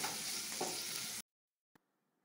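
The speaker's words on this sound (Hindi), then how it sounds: "अनियन को अभी हल्का सा फ्राई करेंगे।" Chopped onion, added after garlic, fries in a pan as a loud steady sizzle for about a second, with one soft stir; it then cuts to near silence apart from a single faint tap.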